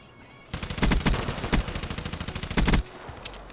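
An MSMC submachine gun in Black Ops 3 fires in rapid bursts of sharp, punchy shots, loud and close, with short gaps between the strings before it falls quiet near the end.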